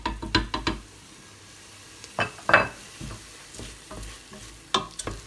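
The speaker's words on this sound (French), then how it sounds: "On mélange le tout." Tomato paste and spices stirred in a pot for Algerian chorba soup, with quick metallic scrapes and knocks of a utensil in clusters, heard close over a low sizzle and with no speech.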